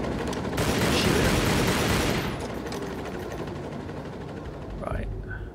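Rapid gunfire in the Nepal level of the video game Tomb Raider Legend, a dense burst of fusillade for about two seconds that fades into a rumbling mechanical tail with faint clicks.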